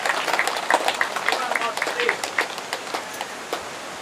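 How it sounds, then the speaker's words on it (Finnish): Applause from an outdoor market-fair crowd welcomes medal winners onto a stage, steady clapping running for several seconds with scattered louder bursts. Someone speaks over it. "Tervetuloa lavalle raikuvien aplodien saattelemana."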